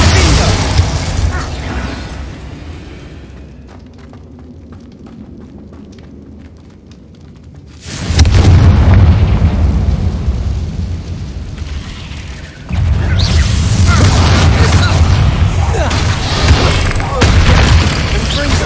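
Confringo fire spells and other magic bursting in a Hogwarts Legacy battle: heavy booming explosions and rumbling blasts come in loud waves after a quieter stretch, mixed with game effects and shouted spell voices.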